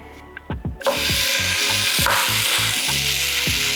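Bologna slices frying in a hot pan give a loud, dense sizzle that holds steady after a few knocks of the pan being set down, with rhythmic scraping thumps throughout and no talking.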